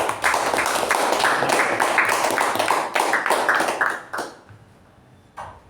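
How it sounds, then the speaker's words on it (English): A meeting audience gives a round of applause, many hands clapping densely and loudly for about four seconds before it quickly dies away, leaving a faint tap near the end. "Let's give a round of applause to her."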